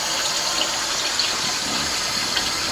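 Warm water runs steadily from a tap into a sink while a Mr. Beer home brewing kit is being prepared. The rushing stream is loud, close and continuous, with no talking.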